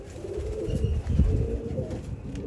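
Pigeons give low, soft cooing close by, a murmuring rumble over faint background noise with no one speaking.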